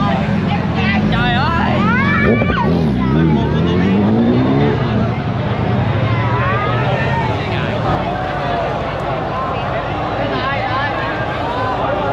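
Loud motorbike engines revving and roaring with rising and falling pitch, accelerating nearby at a bike show in Vietnam, over a noisy crowd babble.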